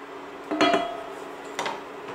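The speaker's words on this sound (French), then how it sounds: "Et on va mettre le couvercle." Metal lid set onto a pot of carrots and water, two distinct clanks with a short ringing tail, the first louder and the second a moment later, close and with no talk.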